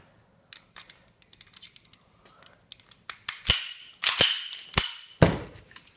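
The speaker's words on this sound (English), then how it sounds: "put this gun back together for you" A KWC M1911 airsoft pistol is reassembled by hand, with light ticks of parts followed by loud, close metallic clacks and snaps as pieces lock into place.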